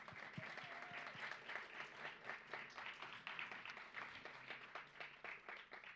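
Sustained audience applause welcomes a speaker on lighting design at a technical audiovisual conference, with dense, even clapping lasting throughout and no voices over it.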